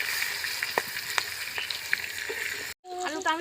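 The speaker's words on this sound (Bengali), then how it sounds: "নতুন আলু। আলুটাকে আমি লাল লাল করে ভেজে নেব।" New potatoes fry in hot oil with a soft, steady sizzle and scattered crackles, ending with a brief cut and then a voice speaking.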